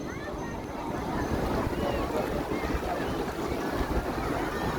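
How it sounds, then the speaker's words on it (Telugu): Sea waves breaking on a shore produce a continuous surging wash of water with wind buffeting the microphone, heard up close, while people talk nearby. "అలలు అదిగో అల వస్తుంది చూడు"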